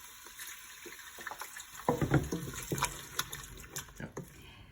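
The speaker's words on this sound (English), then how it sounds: "chicken broth, and I just sort of add a little bit at a time and stir it in" Chicken broth poured a little at a time into a flour mixture for chicken chowder and stirred in, giving close, soft liquid splashing with scraping stir strokes, louder in the middle, no talking.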